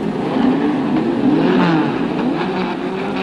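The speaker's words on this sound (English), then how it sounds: "The revs rise as the flag goes up," Engines of 1961 Intercontinental Formula racing cars on the starting grid, revving together in a loud, rising and falling mid-pitched drone with no voices heard.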